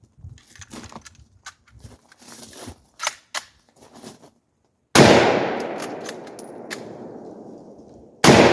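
A rifle shot strikes a mild steel target outdoors, the first half filled with scattered handling clicks and light knocks before one loud, sharp crack at about five seconds rings out and decays over several seconds, with a second loud report at the very end.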